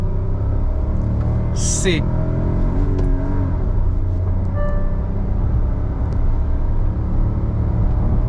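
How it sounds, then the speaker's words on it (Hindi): A Kia Syros with a 1.0 turbo petrol engine and manual gearbox pulls away hard in first gear with wheel spin, its engine roaring steadily near the microphone. A person talks over it. "स्टार्ट करते हैं इसके एक पिकअप से। सो फर्स्ट गियर डाला, 1 2 3, व्हील स्पिन"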